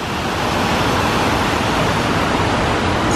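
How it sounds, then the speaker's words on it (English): A waterfall roars as a loud, steady broadband rush of falling water, close and continuous with no pauses and no voices over it. "The waterfall."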